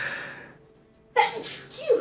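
A single sharp sneeze from someone outdoors in chilly air, preceded by a quiet inhale and followed by a brief breathy tail, close and distinct.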